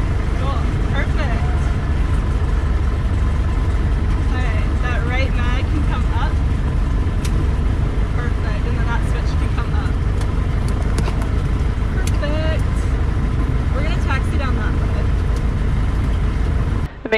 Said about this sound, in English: this plane, so the engine gets real loud